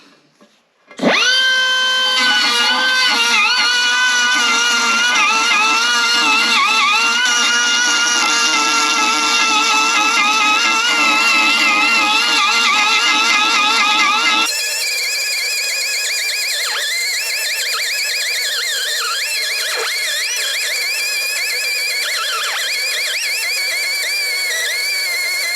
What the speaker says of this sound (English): do a little die grinding on this thing, and then a little filing to fine tune it